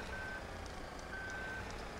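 A truck in a farming video game sounds two long, steady reversing beeps, faint and evenly spaced over a low engine hum.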